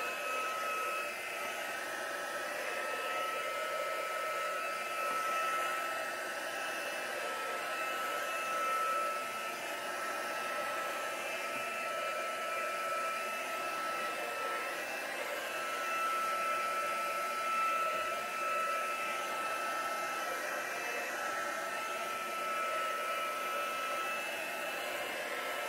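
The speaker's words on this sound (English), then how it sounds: "I'm going to dry it first. So I have a tool to dry mine. You can just use a hairdryer" A hair dryer runs steadily for the whole stretch, drying acrylic paint on a canvas, its constant whirring blow close and even with no talk.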